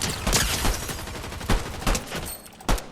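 Rapid gunfire in a shooter video game, played on an MSI RTX 4070 Super graphics card, fires in loud repeated bursts with sharp heavy shots through the whole stretch.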